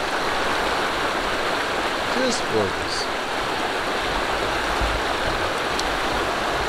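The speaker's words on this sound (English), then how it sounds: "Go right down to the river, a few steps away" A river flows steadily beside a campsite in the Bella Coola area, a broad even rush of water close by, with a brief spoken remark over it partway through.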